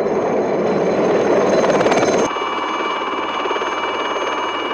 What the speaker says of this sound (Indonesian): ada sebuah helikopter yang melintas ke tempat tersebut